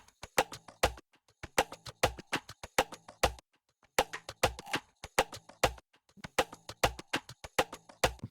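A looping percussive sample of sharp clicks and knocks in a repeating rhythmic pattern in FL Studio, with a metallic, tonally shifted ring to each hit from a frequency shifter.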